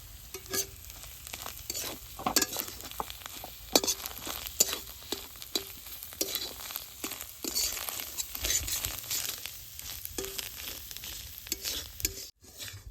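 Spices frying in hot oil for a coriander leaf pickle, with a steady close sizzle and repeated scraping stir strokes throughout, no talking.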